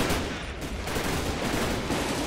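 Rapid gunfire in the video game GTA 5, a dense burst of overlapping loud shots filling the whole brief moment with no pause.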